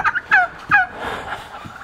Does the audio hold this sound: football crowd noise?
no